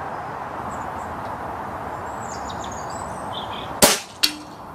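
A BSA R10 air rifle fires JSB Knockout slugs at a 50-yard target outdoors: after a steady hiss of background ambience, a sharp crack rings out, followed a moment later by a second fainter impact.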